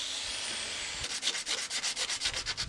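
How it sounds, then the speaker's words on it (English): Sandpaper rubbed by hand along a handmade sword blade, starting as a steady hiss and then turning into a run of about a dozen quick, rhythmic scratching strokes, close and fairly quiet. "In the end, I got it a bit smoother with sandpaper"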